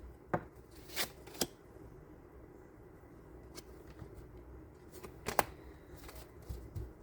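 Tarot cards are shuffled and drawn in a quiet room during a reading, giving several short, crisp riffles and slaps spread over the stretch with soft handling rustle between them.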